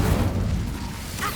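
A fire spell cast in a fantasy wizarding game, a low rumbling whoosh of flame that swells at once and holds steady for about a second before a small crackling burst.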